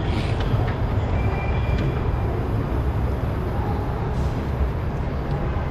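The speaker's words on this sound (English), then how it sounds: "The subway is leaving me, guys." A subway train pulls out of a station in Shenzhen, giving a loud, steady rumble and rolling roar that fills the platform without pause.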